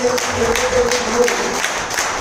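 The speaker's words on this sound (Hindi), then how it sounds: "ये तालियां आपके लिए है" Applause from an audience at a company gathering in a Mumbai head office, steady clapping that continues for the full length, with bursts of sharp hand claps rising over the crowd.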